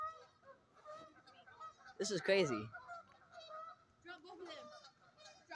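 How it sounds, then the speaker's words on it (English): Geese honking during a fight, a loud harsh burst of calls rising above intermittent quieter honks from several birds nearby, with a person murmuring briefly in between. "Other geese are getting involved."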